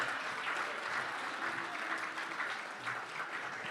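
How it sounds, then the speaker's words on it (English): Audience applause for panelists coming on stage at a GamesBeat Summit 2025 industry event, steady dense clapping filling the room throughout with no talk over it. "Everyone give them a round of applause."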